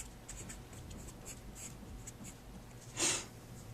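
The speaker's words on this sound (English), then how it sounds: "I'm going to write everything that was above it." Pen or marker writing out a chain-rule derivative for a math lesson, a soft continuous scratching of strokes across the surface with one louder, sharper stroke near the end, no talking.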